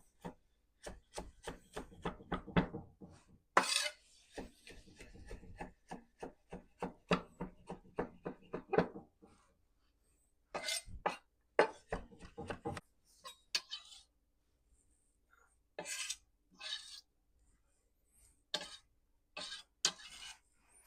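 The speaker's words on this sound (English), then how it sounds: "We're just going to give this a mince." A knife minces peeled vegetables for gumbo on a cutting board, rapid close rhythmic chopping taps in bursts with pauses between, quite crisp, and no talking.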